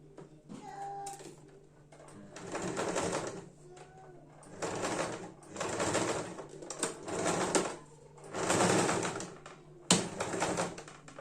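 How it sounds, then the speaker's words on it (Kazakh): A sewing machine stitching a cosmetic bag runs in several bursts of a second or two each, with short pauses between, fairly quiet and close. "Мына осылай тігіп шықтық"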